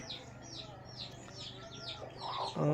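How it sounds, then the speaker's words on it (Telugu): Chickens and chicks in a home breeding section, with repeated high chirping and clucking close by over a steady low background hum, rising near the end. "పిల్లల కోళ్ళు కూడా నేను చూపిస్తాను ఇప్పుడు"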